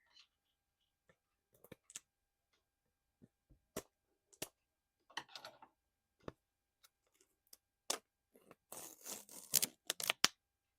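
Scissors snipping open the packaging of a new mini microphone: sparse, sharp, close clicks that quicken into a dense flurry of snips and rustles near the end, in an otherwise quiet room.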